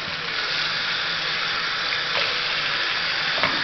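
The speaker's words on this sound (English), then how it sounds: "And cut the water on." Tap water running steadily into a sink for bathing a pet turtle, a close continuous splashing rush with a faint clink near the end and no voices.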